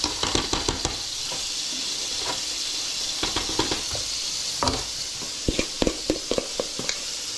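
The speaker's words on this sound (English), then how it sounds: "give it a stir." Hungarian fried dumplings sizzling in a pan as they are stirred, a steady close hiss broken by scattered sharp scrapes and clacks of the utensil against the pan.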